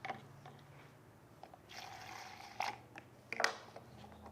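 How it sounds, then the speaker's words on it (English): Water is poured into a finish coat mixture, a faint short trickle and splash about midway, with a few small knocks around it in a quiet room. "add 50 milliliters of water to this"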